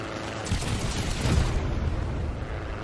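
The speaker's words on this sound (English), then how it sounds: "And we're gonna look at that explosion again." A video game explosion in Trailmakers: a broad, sustained rumbling roar that swells slightly midway and holds steady for about three seconds without a sharp initial crack.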